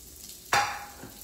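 A sudden burst of sizzling as avocado hits a hot skillet, with a bright hiss that fades over a second, plus a faint scrape afterward.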